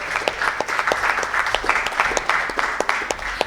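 Steady applause from an audience at an Indian CSR awards ceremony, many hands clapping continuously at an even level throughout.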